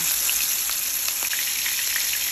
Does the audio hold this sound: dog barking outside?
no